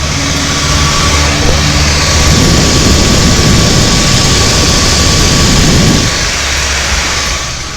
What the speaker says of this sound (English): There's a quick close up audio on the fans.